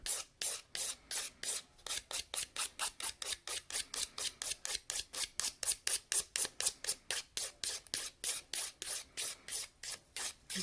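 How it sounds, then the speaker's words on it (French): A hand file rasps back and forth to roughen a surface, about forty quick even strokes in a steady rhythm, close and fairly quiet with short gaps between strokes and no voices. "On passe maintenant à notre lime pour s'assurer que notre surface, elle est rugueuse."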